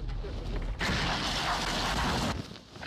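Futuristic rocket launcher firing in a video game, a burst of heavy mechanical whooshing and booming that rises abruptly, holds for about a second and a half, then cuts off.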